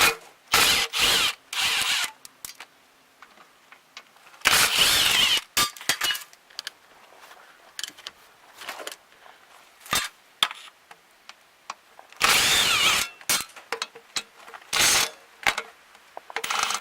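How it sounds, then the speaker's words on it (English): Electric ratchet removing bolts from the automatic transmission of a 2001 Honda CR-V, with several loud buzzing bursts of varying length separated by metallic clicks, tool handling and quiet gaps. "we'll just use the electric ratchet then. That's easier."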